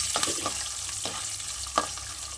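Tempering spices with asafoetida and dried red chilies crackle in oil while being stirred, a soft steady sizzle broken by a few sharp spoon scrapes against the pan.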